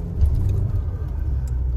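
Car driving home at the end of the day, a steady low engine and road rumble that holds at an even level throughout, close and continuous with no talking.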